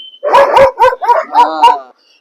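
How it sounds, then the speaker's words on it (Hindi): Several dogs bark in a quick burst of about six loud, close barks, sharp and overlapping, then fall silent. "कुत्तों को नाम लेते के साथ ही भौंकना चालू कर दिया।"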